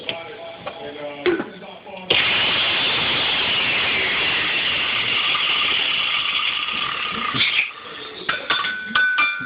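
A blender grinding up a Droid Incredible smartphone, a loud steady whirring motor roar with rattling and scraping that runs several seconds before cutting out, bracketed by people talking.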